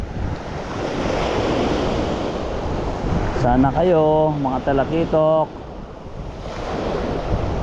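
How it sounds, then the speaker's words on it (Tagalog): Big ocean waves with wind roar at the shoreline, a loud continuous surge and gusting rush, while a man calls out briefly in the middle. "Tama talaga, malaki ang alon."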